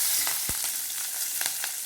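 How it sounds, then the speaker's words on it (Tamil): Mustard seeds crackle and pop in hot oil while being tempered with curry leaves for Madurai-style sambar, a continuous close sizzle broken by a few sharp pops. "நல்லா கடுகு வெடித்து"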